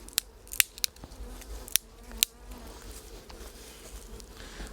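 Honeybees buzz faintly around a hive at a farm at the end of the beekeeping season, with several sharp snipping clicks over a soft, steady insect drone.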